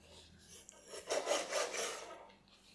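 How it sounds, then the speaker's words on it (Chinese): A knife slices through washed raw chicken breast into strips on a board, a few soft rasping strokes close by and fairly quiet, with no talking. "把清洗干净的鸡胸肉先切成条"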